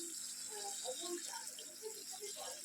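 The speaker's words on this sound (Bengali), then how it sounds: "ভালো করে কষিয়ে জল ঢেলে দিলাম।" Water pours into a pan of well-fried spiced curry masala with cumin powder, making a faint, bubbly gurgle that continues throughout at low level.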